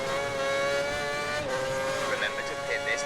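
An F1 race car in the video game F1 2010 on PS3 at the German round holds a steady high engine whine with small shifts in pitch, loud and continuous throughout.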